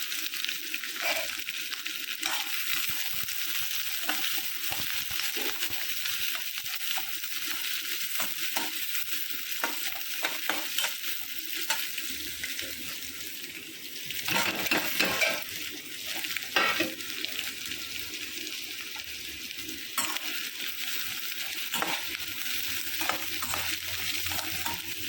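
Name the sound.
onions with bay leaf and fennel being sautéed and stirred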